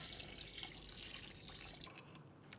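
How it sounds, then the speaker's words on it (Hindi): Mutton stock pouring steadily into a pot of Hungarian goulash, a soft continuous splashing stream that trails off near the end, quiet and close. "अब इसमें डालते हैं मटन का स्टॉक"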